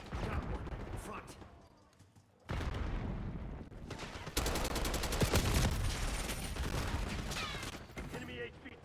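Video game gunfire in a firefight around a high-value target, with rapid bursts and sustained automatic fire, loud and busy throughout, with other game sounds and a brief voice in the mix.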